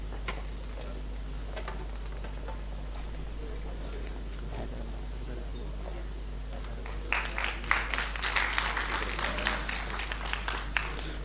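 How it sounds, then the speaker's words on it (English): Applause breaks out partway through at a pulmonary and critical care medicine conference, following a quieter stretch of faint ticking and background murmur, clapping moderate in loudness and fairly close. "Huge round of applause, please."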